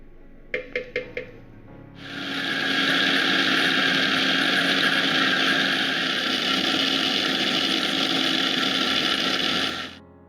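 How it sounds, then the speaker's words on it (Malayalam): An electric mixer grinder whirs loudly for about eight seconds, blending rose apple with sugar and salt in its jar, after a few short clicks as it is switched on, with a steady high whine until it cuts off. "ഇനി നമുക്കിത് ഒരു മിക്സിയുടെ ജാറിലോട്ടിട്ട് നമുക്ക് നന്നായിട്ട് അരച്ചെടുക്കാം."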